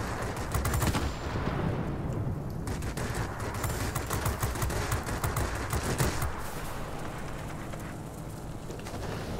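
Aircraft machine guns fire in sustained rapid bursts in the World of Warplanes video game, flying an I-153P biplane with DM-4 ramjets. The dense, loud chatter runs nearly nonstop with only brief dips.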